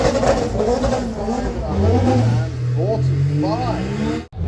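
Drag racing car at Santa Pod Raceway during the European Finals accelerating hard down the strip, a loud sustained engine roar with rising pitch, partly under a commentator's talk.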